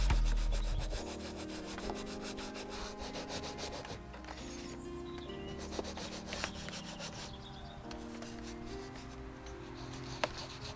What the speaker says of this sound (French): Vous voyez aussi la façon dont il frotte, il fait aussi des actions circulaires.